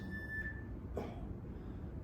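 A workout interval timer gives one short electronic beep near the start, a clear tone that cuts off before the half-second mark, with quiet room tone after it and no one talking.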